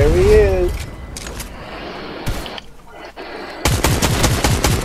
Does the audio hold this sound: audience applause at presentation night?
no